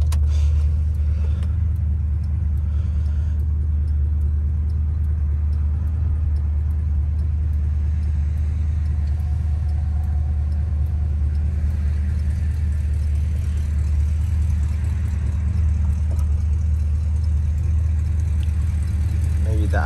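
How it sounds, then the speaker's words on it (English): A 1957 Chevrolet Bel Air engine idles steadily up close, a deep, even low rumble that holds without change for the full length. "The idle needs to come up a little bit."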